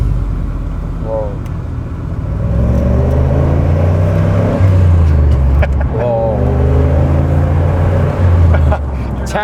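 A turbocharged Pontiac GTO drives off and accelerates. Its engine note rises and settles in a steady, loud rumble heard from inside the car, with brief voices over it.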